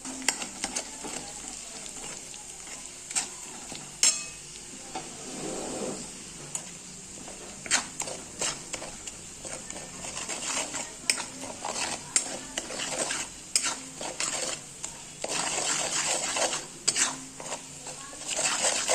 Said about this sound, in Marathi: आता त्यात चटणी चांगलं कडसून घेऊ.